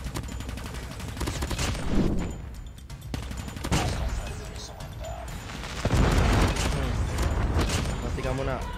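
An SMG fires in a ranked PUBG-style shooter match, with dense rapid bursts of gunfire and booms layered over game noise and music, and voices talking over them.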